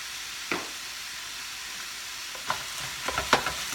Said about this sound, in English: So, I'm going to put in my onions and my green onions.